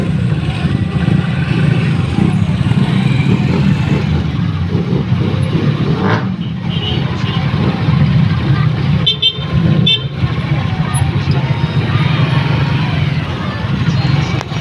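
Busy road traffic on the way to a health center in the Philippines, a loud steady roar of car and truck engines close by with car horns tooting at intervals throughout.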